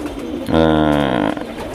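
A pigeon crossed with a quail gives a single loud, close, drawn-out coo lasting under a second, with quieter noise before and after.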